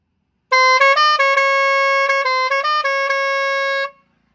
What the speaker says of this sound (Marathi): आवाज कसा वाटला तुम्हाला हॉर्नचा?